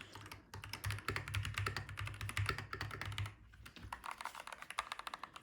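Fast typing on a Keychron K2 Pro mechanical keyboard with pre-lubed switches, a dense close stream of crisp keystrokes that briefly pauses, then resumes as a sparser run of separate clacks, with no talking.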